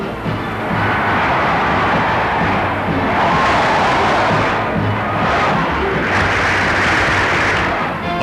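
A capacity crowd of about 14,000 roaring and cheering at a Boston Celtics basketball game in an arena, a loud, sustained wash of voices that swells and recedes without a break, like an old newsreel recording.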